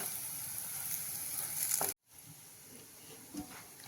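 Beetroot cutlets fry in a pan with a soft, steady sizzle, briefly cut off before the gentle frying resumes with a faint scrape or two; no one speaks.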